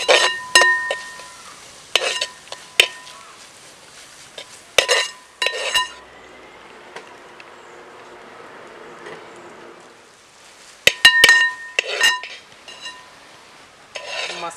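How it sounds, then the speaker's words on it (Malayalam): Fish masala with Kashmiri chilli powder is mixed in a pan, with bursts of loud scraping and clinking strokes from a spoon separated by quieter stretches of soft sizzling, close up with no talking. "മിക്സ് ചെയ്തെടുക്കുക"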